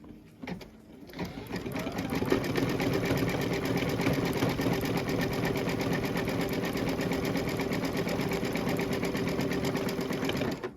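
An embroidery machine stitches steadily at 500 stitches per minute on a quilted bench pillow block, a close, even mechanical whir with rapid needle clatter that starts up after a few brief clicks and runs continuously.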